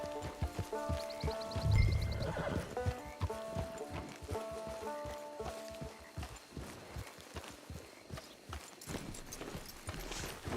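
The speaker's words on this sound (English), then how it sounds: "It's your horse." Hooves clop steadily as a horse walks and trots in the Western video game Red Dead Redemption 2 Online, a moderately loud rhythmic beat with soft game music running underneath.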